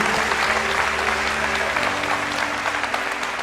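Continuous applause from a church congregation, a broad rush of many clapping hands at fairly even volume, with low musical tones held beneath it.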